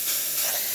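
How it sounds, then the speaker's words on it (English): An Alex Duetto espresso machine's four-hole steam wand blasts a loud, steady, powerful hiss of steam at close range, continuous for the whole short burst. "So I'm going to steam. This one has a 4 spout, as you can see, so it has really powerful steam coming out of it."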